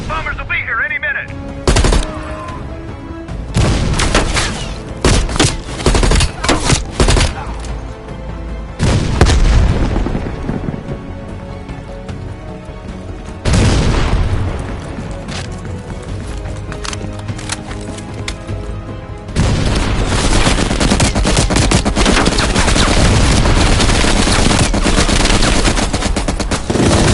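Machine gun fire in Call of Duty Cold War, loud sustained bursts of automatic fire with heavy booms and explosions, continuing nearly throughout with brief lulls and layered battle noise.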